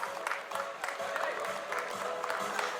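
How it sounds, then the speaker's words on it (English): Warm applause for a student at an award ceremony, a full, even patter of many hands clapping close by, continuous for the whole stretch. "A warm applause for Adiba."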